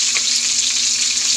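Ingredients for ginataang pagi, stingray cooked in coconut milk, hit hot oil in a pan, giving a loud, steady, continuous sizzle and frying hiss up close with faint stirring and no voices.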